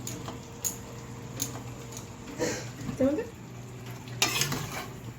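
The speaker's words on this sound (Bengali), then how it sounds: "আলুটা দিয়ে আমি পাঁচ থেকে সাত মিনিট আরও একটু কষিয়ে নেব" Boiled potatoes being sautéed in a spiced masala over medium heat for Bengali aloo dum, a soft low sizzle with scattered stirring scrapes and utensil clinks, close by, as a voice talks intermittently.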